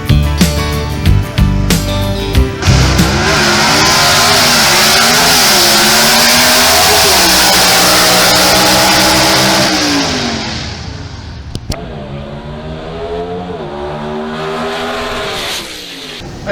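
A drag car at a SEGA drag race revs hard and loud for a long sustained stretch, the engine note climbing and holding before easing off into lower, wavering revs.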